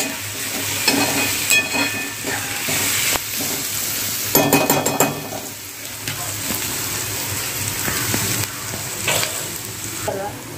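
Onions frying in oil in a pan for chole, a steady close sizzle with stirring clatter and occasional clinks of a utensil against the pot, no voices.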